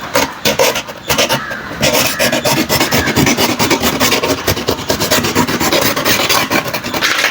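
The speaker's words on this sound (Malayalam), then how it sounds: "പിന്നെ നമുക്ക് ഈ ഒരു ബോക്സിൻ്റെ ഒരു വശം ഒന്ന് കട്ട് ചെയ്തെടുക്കാം" A blade saws through one side of a cardboard box in a loud, continuous rasping rub with a rapid back-and-forth rhythm, close up, with no talking.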